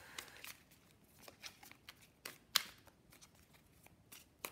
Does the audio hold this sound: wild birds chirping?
no